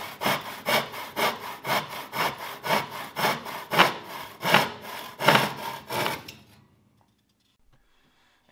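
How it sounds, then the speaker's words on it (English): A handsaw cuts through a wooden board for a beginner's box project in a rapid, steady back-and-forth rhythm of about a dozen strokes, loud and close, then stops, leaving near-silence. "So we'll just finish cutting this, and then we'll move on to laying out the sides and cutting them."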